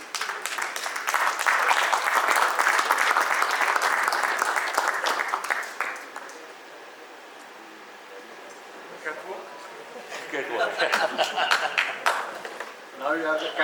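A conference audience at an international oil industry event in Dubai applauds loudly and steadily for several seconds, fades to a quieter lull with scattered claps, then swells into a second burst of clapping.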